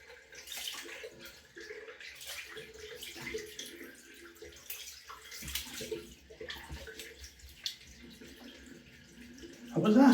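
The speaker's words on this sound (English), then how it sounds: "I'm just going to rinse my face off." Cold water runs from a bathroom tap in a close, uneven splashing as someone rinses their face by hand, with a voice speaking softly over part of it.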